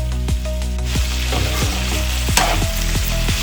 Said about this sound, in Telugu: ఇప్పుడైతే చాలా లో ఫ్లేమ్లో అయితే పెట్టి ఫ్రై చేస్తున్నాము